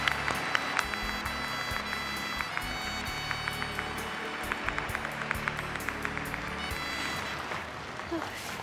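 Steady, dense applause from an audience in Helsinki welcoming Master Suma Ching Hai, continuous clapping filling the room throughout with a faint tone underneath.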